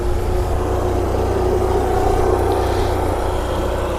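A 1994 Honda ST1100 motorcycle cruises on a test ride after new front wheel bearings, its engine a steady low drone mixed with wind rush, constant and fairly loud with no talking.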